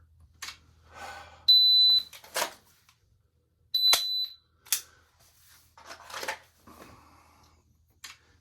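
A shot timer gives two short, sharp electronic beeps about two seconds apart during a dry-fire drawing drill, clear and close, mixed with a few rustles and clicks in a quiet space.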